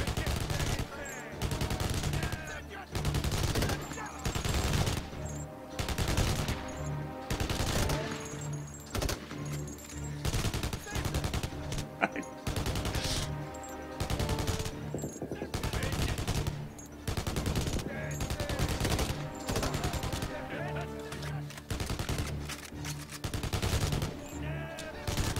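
Gunfire in the Kinect game Blackwater, rapid repeated bursts of close, loud shots running continuously with brief gaps, overlaid by occasional talk.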